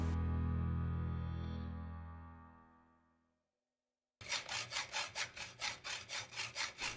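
Saw cutting aluminum pieces, heard as close, rhythmic back-and-forth strokes of about two per second that start after a long ringing metallic tone dies away to silence.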